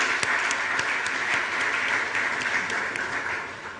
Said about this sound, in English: I think he deserves another round of applause.